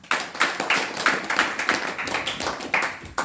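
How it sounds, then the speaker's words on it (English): A small lecture audience claps in a sparse, uneven patter, individual claps distinct and fairly close, rising and falling in loose bursts for a few seconds. "So clapping to all of you as well"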